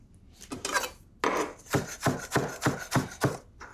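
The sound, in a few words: chopping red peppers with a knife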